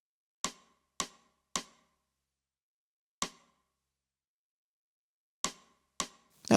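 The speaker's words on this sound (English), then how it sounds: "I'm adding this 1176 compressor with a tweaked version of the pop snare preset." Snare drum hits compressed through an 1176 with a tweaked pop snare preset, crisp isolated cracks in an irregular pattern of about six strikes with tight decays and silence between.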